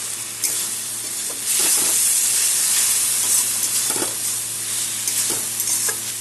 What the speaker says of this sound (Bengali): এখন ভালো করে সব একসাথে কষিয়ে নেব